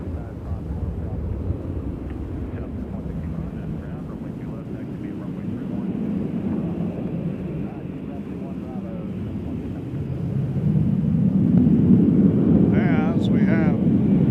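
Airliner bound for San Francisco rolling down the runway at Nashville International Airport, a broad, steady jet roar that swells louder toward the end, heard from a distance with people talking over it.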